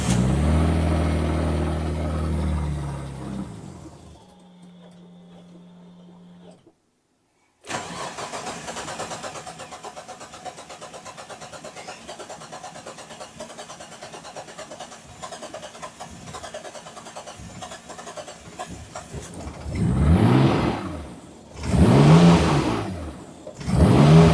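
A Ford Anglia engine cranks and catches after a quiet pause, then runs rich with a rough, steady idle close by, swelling into three loud revs near the end.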